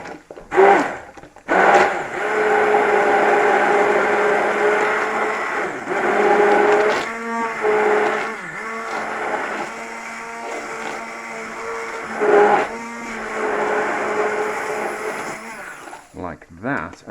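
A blender purees mushrooms for a cheesy mushroom pasta, its loud motor whirring in long sustained runs broken by a few short stops and restarts.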